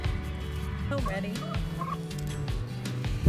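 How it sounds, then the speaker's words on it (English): Narragansett turkeys gobble on a homestead, several bursts of rapid, wavering calls overlapping one another, fairly close and steady, with no one talking. "We got baby turkeys."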